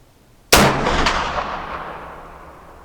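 A single loud gunshot from a CVA Wolf V2 muzzleloader fired at a 100-yard target cracks sharply after a short quiet lead-in, then rolls off in a long fading echo.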